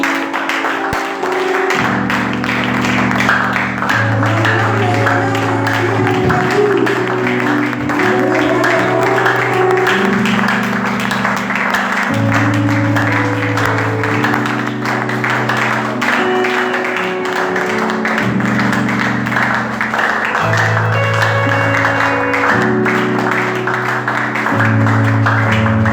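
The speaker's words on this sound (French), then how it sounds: "Acclamons les Seigneurs." A church congregation claps together in acclaim during a worship service, with steady, dense applause running underneath loud, sustained music for the whole stretch.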